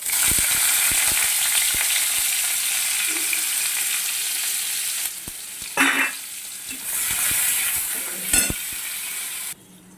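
Chopped onions hit hot oil in a wok (kadai) for a prawn dish with mustard-poppy paste, giving a loud, steady, close sizzle broken by stirring scrapes and a few brief clinks; the sizzle dips midway and cuts off near the end.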